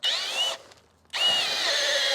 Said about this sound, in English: It's literally pulling the drill through.